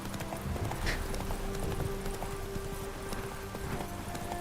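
Horse hooves clip-clopping in The Witcher 3: Wild Hunt, a steady rhythmic trot over a game soundtrack backdrop, with a faint whinny, moderately loud and with no speech.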